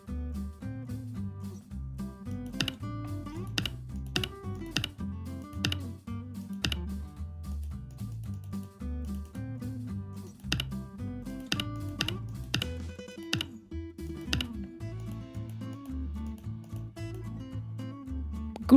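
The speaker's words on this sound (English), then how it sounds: "Every button click has a sound, except in the shop." Sharp UI button clicks from a Unity game tick out in irregular succession over a low, looping background music track, with no talking.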